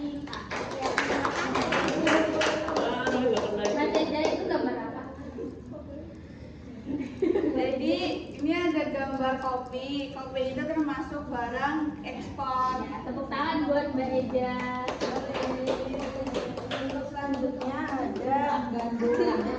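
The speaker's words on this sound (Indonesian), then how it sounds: "Tepuk tangan buat Mbak Sinta." Schoolchildren clapping together in a primary school classroom, several short rounds of hand claps separated by a teacher and children talking.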